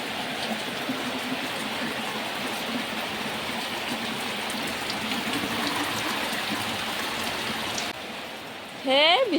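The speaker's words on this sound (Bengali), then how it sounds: "এই যে বৃষ্টি আয়া পড়ছে" Heavy rain pours steadily outside a home, a dense continuous hiss throughout, with someone speaking over it and a brief sharp tonal sound near the end.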